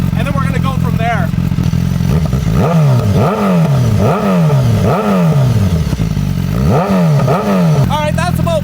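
A BMW S1000RR sportbike fitted with an Austin Racing exhaust is revved repeatedly to about 5,000–6,000 RPM, giving a series of loud, close blips that rise and drop in a regular rhythm, with talking before and after.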